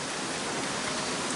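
Heavy rain pours down in a steady, dense hiss on a windy night, close and continuous with no break for the whole moment.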